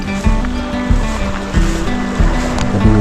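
Swift-flowing river water in a village stream, a loud, continuous rushing wash with a low rumbling churn that swells in waves, close by and heard alone.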